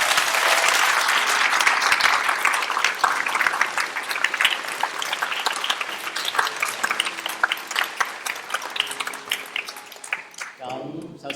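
A university drama society's audience applauds at its drama night in a theatre, a dense, sustained clapping that stays loud for most of the stretch before tapering off near the end.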